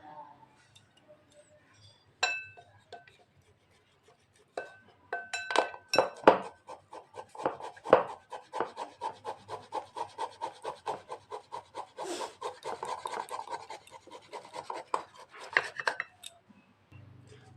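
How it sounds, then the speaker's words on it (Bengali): Boiled potato rubbed against a metal grater in a home kitchen, a close run of rapid scraping strokes with clinks of the grater against a dish, starting with a few scattered knocks before settling into steady rhythmic grating. "আমি এখন এখানে আলুটা গ্রেট করে নিব"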